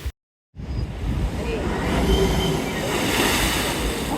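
Ocean waves surge at a blowhole on the rocky Kauai coast, a loud, continuous rushing roar that starts abruptly after a brief silence, mixed with wind buffeting.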